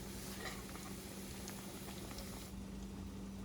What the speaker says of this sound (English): our water is boiling for the grits